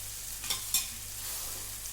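Shevdya noodles go into hot oil with curry leaves and are stirred, giving a soft steady sizzle with two brief clattering scrapes near the start and no talk.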